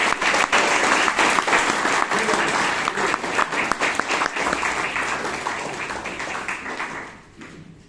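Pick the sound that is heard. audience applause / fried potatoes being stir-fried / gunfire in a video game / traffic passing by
audience applause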